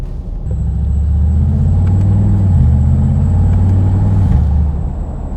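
Mercedes G Wagon engine heard from inside the cabin while driving, a steady loud low rumble that holds for several seconds and eases off at the end, with no talk.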